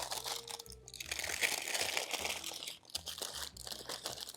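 A sheet of parchment paper is lifted from a hot pan and crinkled, giving a steady close rustling and crunching that lasts several seconds with no talking.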